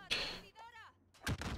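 Two sharp bursts of Call of Duty: Modern Warfare gunfire, one at the start and another about a second later, with a short whooshing effect between.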